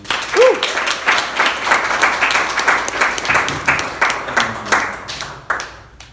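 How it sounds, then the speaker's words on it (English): An audience at a poetry night during TwitchCon claps in warm, sustained applause, dense and lively at first, then thinning out toward the end, with a few voices mixed in. "Give them a warm round of applause again."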